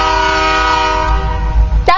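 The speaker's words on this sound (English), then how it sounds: "That was that train." A freight train passes close by and sounds its horn in a loud, sustained blast over a low rolling rumble. The horn cuts off sharply near the end.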